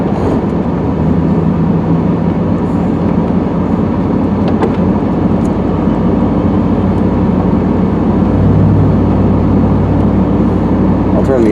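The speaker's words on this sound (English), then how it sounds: "so you can hear the car, hear the exhaust" A loud, continuous low engine and road drone from a Firebird driving with its exhaust rumbling steadily, with a brief shift in tone near the end.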